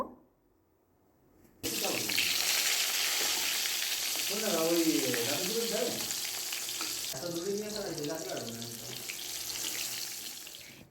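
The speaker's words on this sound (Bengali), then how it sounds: "এখন এই তেলের মধ্যে একে একে বেগুনগুলো দিয়ে দেব" Eggplant pieces hit hot oil in a wok and break into a loud, steady sizzle that continues throughout, with a voice talking over the frying.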